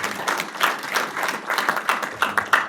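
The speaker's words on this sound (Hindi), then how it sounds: "माता जी के लिए जोरदार ताली बजाएं।" Audience clapping for an older woman, a brisk uneven round of claps from a modest crowd, moderately loud with no talking over it.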